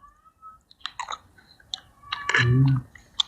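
Someone eats stir-fried basil minced pork with squid and a fried egg, served on a tray. Close, wet chewing and small clicks come in short bursts, with one stronger chewing stretch near the end.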